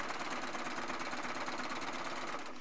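A Baby Lock serger sews long quilt fabric strips together with a fast, steady mechanical whir and buzz, close and constant for the whole stretch.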